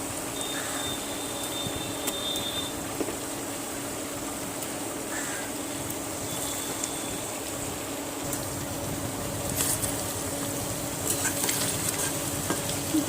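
Spice paste for a mutton and potato curry sizzles and fries steadily in hot oil while being stirred, a continuous close hiss with scraping stir sounds throughout and no talk.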